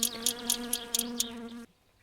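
Buzzing housefly in My Summer Car, a steady close drone with a pulsing rhythm that cuts off abruptly near the end, leaving quiet.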